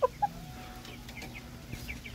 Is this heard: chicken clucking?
yes